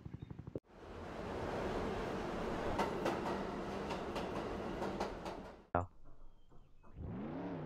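Cargo train in the Roblox game Jailbreak rumbles past as a loud, steady rush of wheels and wagons for about five seconds, cut off abruptly, followed by quieter game ambience.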